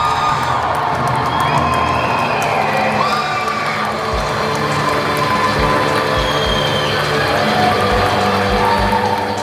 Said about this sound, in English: As you can hear, the crowd is going wild.